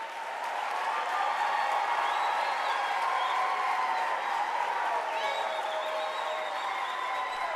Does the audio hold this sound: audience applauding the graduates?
yes